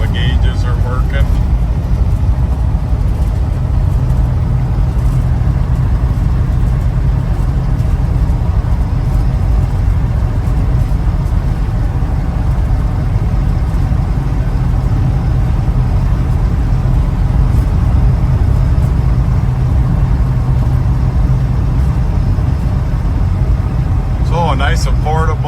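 A 1978 GMC Jimmy drives along with its engine running in a steady, loud, low rumble that continues throughout, with no talk over it.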